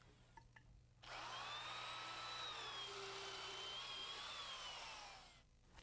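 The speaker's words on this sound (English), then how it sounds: "We use a heavy-duty drill motor and a good sharp auger bit to drill our holes." A heavy-duty drill motor turns a sharp auger bit through wood, making a loud, sustained whine for about four seconds. The pitch dips under load and then recovers, with quiet stretches before and after.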